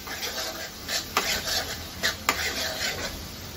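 Capsicum masala stir-fried in a pan, a continuous close sizzle under repeated spatula scrapes and several sharp metallic knocks against the pan, with no one talking.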